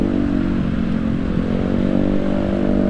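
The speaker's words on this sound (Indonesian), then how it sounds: "Ini berisik banget deh knalpot" Loud motorcycle exhaust, a steady droning rumble with a buzzing tone held at an even level throughout, close by and with no talking.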